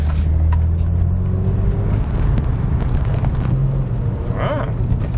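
A BMW M3, abandoned for four years, drives with a steady, loud engine rumble and road noise throughout, with some low tonal hum and a brief higher whine near the end.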